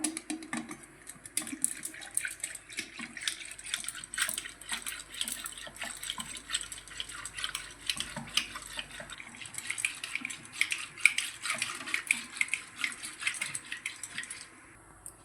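Gram flour whisked into buttermilk for kadhi, a steady run of quick scraping, sloshing strokes in a bowl, close and fairly loud throughout with no talk.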